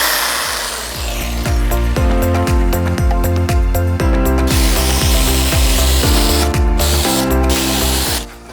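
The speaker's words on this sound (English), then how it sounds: "the way we cut these is using the jigsaw" A jigsaw cuts through a plastic interlocking garage floor tile, giving a loud, close, continuous rattling buzz with steady rhythmic knocks for about eight seconds and no talking.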